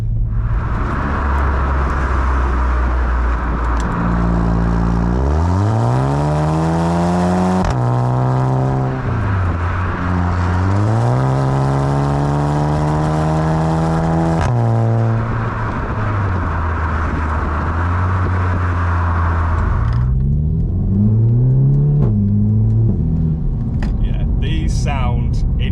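A VW Golf GTI MK7.5 with a Remus exhaust drives loud and close. The engine climbs through several rising revs with sharp drops at the gear changes, and a low exhaust drone runs underneath.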